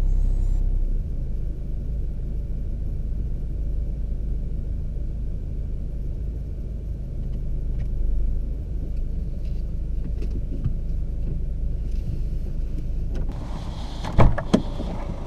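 A car creeping forward into a marked parking bay during a UK driving test bay-parking manoeuvre, its engine a steady low rumble throughout, with a brief mechanical clunk or whir near the end.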